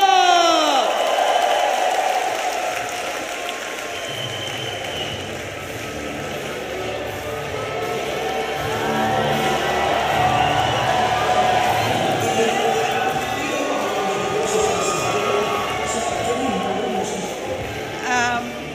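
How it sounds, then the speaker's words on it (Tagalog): A large crowd applauds and cheers for Dr. Lorraine Badoy at a Filipino rally, a dense, sustained roar of clapping and shouts lasting well over fifteen seconds with voices mixed in. "Isang malakas na palakpak!"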